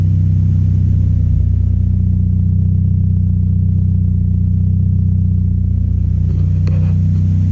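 A turbocharged Honda Integra with an engine swap and a GTX 3076 turbo idles through a full exhaust, a loud, steady, deep rumble that stays close and even throughout, with a faint clatter near the end.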